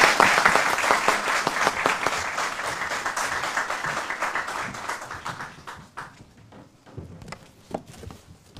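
Sustained audience applause fills a hall at Oxford as the Chief Minister is welcomed, loud and dense at first, then thinning into scattered claps that fade toward the end.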